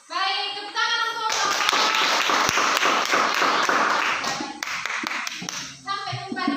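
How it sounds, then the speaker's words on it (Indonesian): A classroom audience applauds after a group presentation closes, a dense burst of clapping lasting several seconds between brief spoken words at the start and end. "Baik, tepuk tangan untuk"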